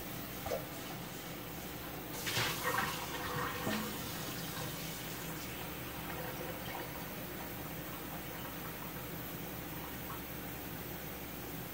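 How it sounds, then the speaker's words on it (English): Tap water runs steadily into a cooking pot in a home kitchen, a quiet continuous splash with a brief louder rush partway through. "I'm going to put some water in the pot."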